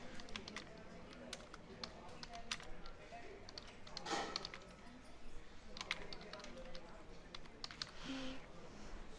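Steady clicking of keystrokes on a computer keyboard as a name is typed, close and fairly quiet, continuing through the whole stretch with faint room noise underneath.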